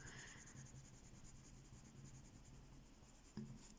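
A Holbein colored pencil scratches and scrubs across paper with a soft, continuous grainy rasp, close and quiet, ending in a brief sharper tap near the end.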